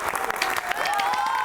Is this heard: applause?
yes